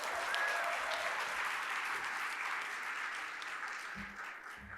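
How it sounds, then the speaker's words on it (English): An audience at a club luncheon claps and cheers steadily for a welcomed guest, with dense, even applause filling the whole stretch and a few whoops near the start. "I think we should give a really big cheer for Karen Kasler"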